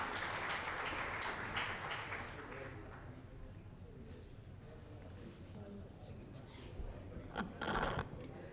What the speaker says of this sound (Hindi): Jyotima के लिए जोरदार तालियां